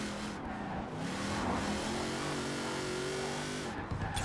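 Hot Wheels Mustang in Forza Horizon 4 with its engine holding a loud, sustained high-revving roar as the rear tires spin and squeal, continuous and close throughout.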